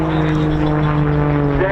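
A Royal Air Force Grob Tutor propeller training aircraft flies at an air show, producing a loud steady propeller engine drone with a strong low hum that shifts slightly in pitch near the end.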